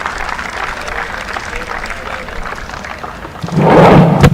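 Crowd noise at a women's tennis tournament on match point, a steady murmur that swells into a loud roar near the end.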